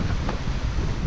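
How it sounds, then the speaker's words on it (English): Strong wind off the sails of a sailboat buffets the microphone with a constant low roar, over faint rushing water, steady throughout and close. "All that air flowing off the bottom of those sails really makes it windy."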